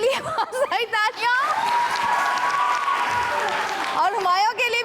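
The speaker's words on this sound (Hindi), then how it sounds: "कोमल के लिए बहुत सारी तालियां" TV show studio audience clapping in a sustained burst, loud and dense, with a host speaking briefly before and after and some laughter mixed in.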